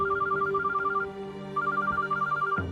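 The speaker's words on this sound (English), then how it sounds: "the phone rings" A telephone rings in the middle of the night with a steady electronic warble, repeated in two bursts separated by a short pause, loud and close, with no talking.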